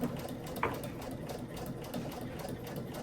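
A sewing machine runs steadily while stitching fabric for a homemade AirPod case, a close, continuous mechanical whir with one sharp tap partway through and no talking.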